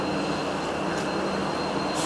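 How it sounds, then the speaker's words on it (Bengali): Vande Bharat Express arriving at Banihal junction platform, a loud continuous rumbling roar of the moving train with steady broadband noise, close and without voices. "ট্রেনটা চলে আসলো বানিহাল জংশন"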